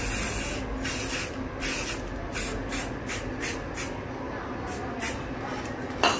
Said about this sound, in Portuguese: Vamos lá pintar então a nossa tampa do iPhone 8 Plus.